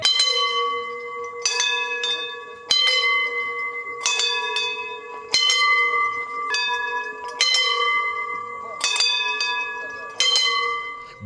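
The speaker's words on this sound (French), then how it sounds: "Le son des cloches." Bells ring out in a night-time ritual procession: repeated loud, bright clangs strike in bursts, each ringing on with a sustained metallic tone before the next group of strikes, with no talk over them.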